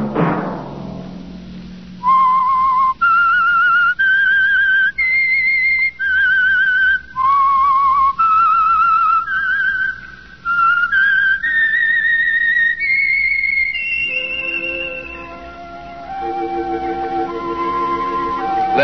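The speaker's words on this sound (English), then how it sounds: "Let that whistle be your signal for the Whistler." A whistled rising and falling melody, the theme signal of the 1949 Whistler radio drama, rings out in clear sustained notes over an orchestral bed, ending in a lower sustained chord.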